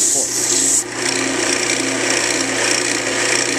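Fine-grit sandpaper rubs steadily against a cork being smoothed for a slip cork, a continuous close rasping scrape with no pauses.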